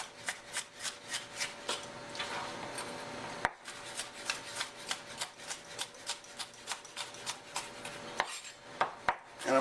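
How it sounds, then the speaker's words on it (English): Knife finely dicing a red bell pepper on a cutting board, with rapid, evenly spaced crisp chops in steady bursts, a brief pause and then more rhythmic chopping, close and clear without talk. "So I got this diced up"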